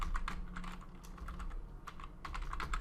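Typing on a computer keyboard, fast bursts of close, crisp key clicks with short pauses between runs, no voices over them.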